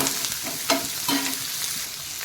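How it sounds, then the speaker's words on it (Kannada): Onion and green chillies frying in a pan on a low flame for chana masala, an even close sizzle broken by a couple of brief stirring scrapes. "ಈಗ ಇದನ್ನು ನಾನು ಸಣ್ಣದಾಗಿ ಉರಿಯಲ್ಲಿಟ್ಟು ಫುಲ್ಲು ಫ್ರೈ ಮಾಡಬೇಕಾಗುತ್ತೆ"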